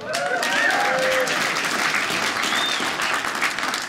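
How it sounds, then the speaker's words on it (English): An audience at a stand-up comedy show claps in a sustained, even burst, with a few cheers and shouts mixed in across the whole stretch. "Round of applause for rescuing an animal."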